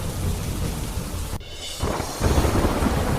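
Heavy rain pours steadily in Sabarkantha, Gujarat, with a thunder crack partway through and the downpour swelling louder afterward, close and continuous.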